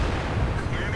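A KV-2 tank cannon firing in World of Tanks, a single heavy booming blast with a dense low rumble filling the whole moment, loud and close.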